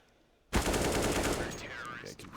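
Sustained automatic gunfire from SMGs and M4 rifles in Counter-Strike on the Mirage map, a dense burst that starts abruptly and rattles on loudly for about two seconds with overlapping shots.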